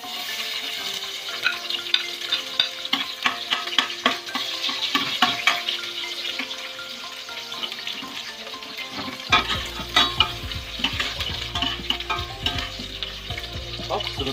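Onions fry in hot oil, crackling and popping densely up close, with clattering stirs against the pan and a low hum joining partway through.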